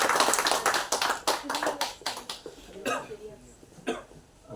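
Applause from an audience at a Tamil documentary film event, a burst of claps that fades into scattered individual claps with a few late pops, mixed with murmuring voices.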